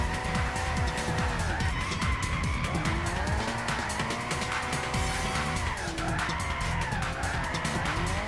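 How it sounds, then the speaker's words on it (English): A car drifts in Gran Turismo 6 with loud, continuous tire squeal and skidding over a revving race engine whose pitch rises and falls through the slide, close up and without pause. "I'm gonna try to keep the drift with this car."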